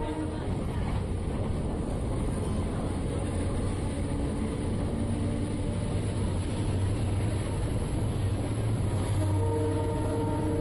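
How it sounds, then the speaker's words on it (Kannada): A DEMU passenger train on the Ballari to Davanagere line of Indian Railways runs along the tracks, a steady loud rumble and rattle from the moving coaches with no break across the whole stretch. "ಎರಡು ನಿಮಿಷ ಹಾಲ್ಟ್ ನಂತರ ನಮ್ಮ ಟ್ರೈನು ಅಗರಿ ಬೊಮ್ಮನಹಳ್ಳಿಯಿಂದ ಹೊರಟಿದೆ"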